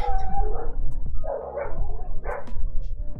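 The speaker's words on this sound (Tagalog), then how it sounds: "Kainis naman itong mga aso na to" Several dogs bark and howl close by in a loud, overlapping cluster of yips and barks, continuous through the short stretch with no talking.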